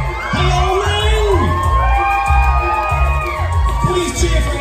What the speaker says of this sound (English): Please cheer for everybody who isn't your favorite because they're just as awesome anyway.